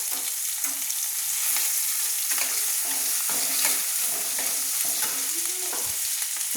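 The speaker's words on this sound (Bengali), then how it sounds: "তারপরে আদা বাটা তুলে দিচ্ছি," Ginger paste hits hot oil in a pan while being stirred, giving a close, continuous sizzle broken by scraping strokes of the spatula.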